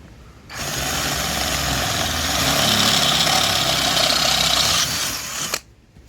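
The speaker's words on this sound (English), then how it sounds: "So let's get that drilled." A hand-held power drill boring a hole through a metal rod for a homemade privy probe: a sustained, loud whirring drone that starts abruptly, holds steady for about five seconds with a slight strain midway, then cuts off.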